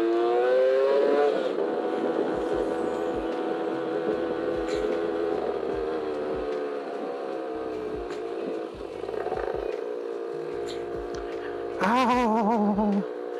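Motorcycle engine laboring steadily uphill on a road near the Tambi tea plantation in Temanggung, climbing without momentum; a continuous mid-pitched drone, close and loud, with a brief rise in revs near the end.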